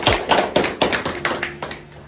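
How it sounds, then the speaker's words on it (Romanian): A small group claps briefly at a surprise visit for a woman, a quick run of close, uneven hand claps that thins out and fades within two seconds. "Aplauze!"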